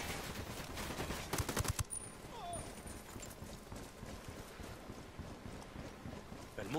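Ghost Recon Wildlands gunfire shootout: a rapid burst of automatic shots stands out early, then quieter scattered pops continue faintly amid game ambience, with a voice talking over part of it.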